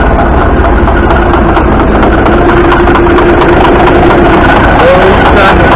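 The engine of a Caterpillar D8K bulldozer runs at a steady idle. It gives a loud, close, low rumbling drone with no break, and faint voices may sit beneath it.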